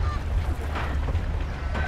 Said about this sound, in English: Oh, he's feeding the geese.